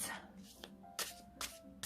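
Tarot cards shuffled by hand in short riffling bursts spaced about every half second, over a low steady background hum.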